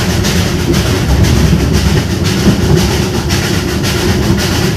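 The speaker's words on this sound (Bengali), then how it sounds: "কয়লার ইঞ্জিন চালিত পুরনো কালের ট্রেনের মতন কুচিকচিক করে এই যাত্রাটা" The Darjeeling toy train, an old-style coal-engine train, rumbles steadily along the tracks between Darjeeling and Ghum with a continuous low roar and faint rhythmic clatter, loud and close throughout.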